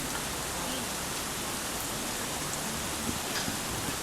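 Steady rain falls on the canals of a rendered Venice scene, a dense, even hiss of drops hitting water and stone that holds at a constant level throughout with no voices.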